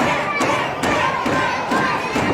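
A wrestling arena crowd cheering and shouting in a loud, continuous roar, with rhythmic thuds that sound like hands clapping or stomping at regular intervals.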